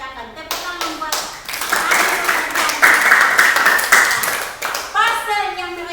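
Students in a classroom clap for classmates in a brief burst of applause, with children's voices talking before and after the clapping.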